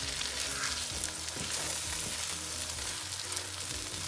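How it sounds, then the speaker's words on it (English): Egg fried rice sizzles steadily in a hot pan while being stirred, with scraping and clinking of the utensil against the pan over the continuous frying hiss. "So you stir nicely."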